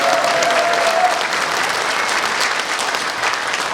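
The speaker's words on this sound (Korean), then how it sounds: "그리고 우리 3분께 다시 한번 좀 응원의 박수 해주십시오." A talk-show studio audience gives sustained applause to three guests: a thick, even clapping that stays loud and close for several seconds.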